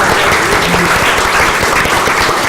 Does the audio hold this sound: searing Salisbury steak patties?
no